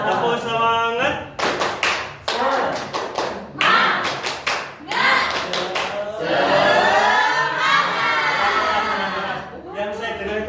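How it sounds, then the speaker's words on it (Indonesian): A class of seventh-grade students chants together in unison while clapping sharp rhythmic patterns, loud and close, with voices and claps alternating in a lively beat. "Ya, semuanya tepuk semangat."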